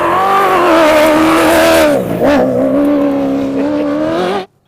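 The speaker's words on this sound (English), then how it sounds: "The reward for coming here and waking up early is that the cars will pass right here" Carlos Sainz Sr.'s Ford rally raid car, in a Dakar-style desert rally in Argentina, roars past at close range, its engine note sustained and loud with a slight pitch dip as it goes by, then the sound cuts off abruptly.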